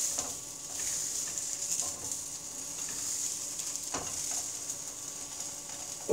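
Hamburgers sizzle on a grill over a small flame, a steady close hiss of frying with occasional soft clicks and scrapes of utensils, no voices.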